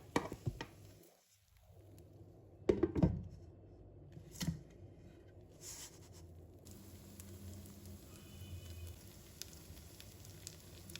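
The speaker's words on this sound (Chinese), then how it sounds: "煎到两面金黄就可以了" A vegetable and seafood pancake fries in a pan with a soft, steady sizzle and a few sharp scraping or flipping clicks, fairly quiet and with no voices.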